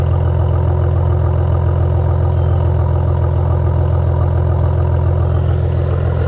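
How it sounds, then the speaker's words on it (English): A flood-damaged Maserati idles with a deep, steady exhaust rumble, loud and close, holding an even, throbbing low drone throughout with no speech. "I love me that exhaust. That sound to me is unbelievable."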